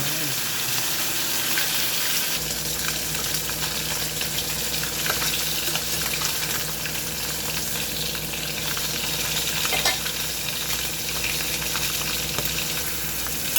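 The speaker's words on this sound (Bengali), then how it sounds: "আমি কই মাছগুলোকে এক এক করে ভেজে তুলে নিচ্ছি।" Koi fish fry in hot oil for a fish and potato curry, a dense, continuous sizzle and bubbling heard up close, with faint clatter partway through and no speech.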